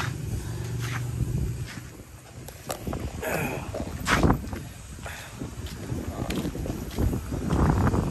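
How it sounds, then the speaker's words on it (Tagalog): Strong outdoor wind at a rowhouse work site, a steady rumbling roar buffeting the microphone with gusty surges throughout, loud and close. "Grabe yung weather natin dito, ang hangin."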